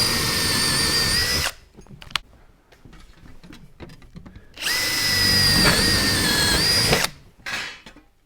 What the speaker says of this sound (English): We can use lots of different sizes of these twisting drill bits to drill holes through wood or steel.